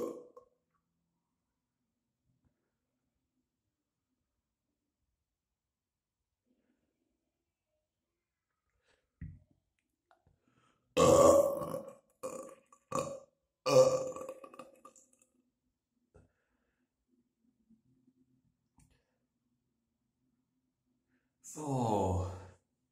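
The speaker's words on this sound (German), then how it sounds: "Es kommt kein guter Rülpser raus" Burps after drinking carbonated Mountain Dew soda: a short faint one near ten seconds, then a cluster of loud close belches around eleven to fourteen seconds, and a final loud burp at the end, with quiet gaps between.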